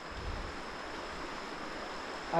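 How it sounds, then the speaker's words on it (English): Soft, continuous rush of a village river flowing gently near Kisii, Kenya, a steady broadband wash with no distinct splashes, heard alone at moderate level. "gentle flow of water"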